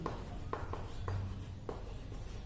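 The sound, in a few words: writing numbers while solving a math problem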